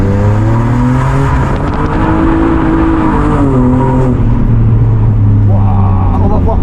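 A drift car on a large race circuit holds a loud, close engine note that rises and falls through the gears, with excited talk over it.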